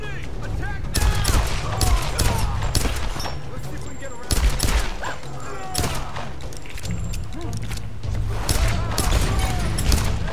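Enemy gunfire rattles almost nonstop in a Tomb Raider firefight, with dense volleys of shots, occasional booms and thumps, and a voice talking over the continuous loud barrage.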